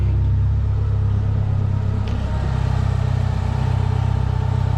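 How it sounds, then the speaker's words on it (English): An engine runs steadily with a low, muffled exhaust rumble and rhythmic throbbing pulses, close by and continuous, no voices. "I'm really surprised how quiet the motor is."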